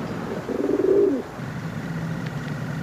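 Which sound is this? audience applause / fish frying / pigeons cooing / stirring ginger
pigeons cooing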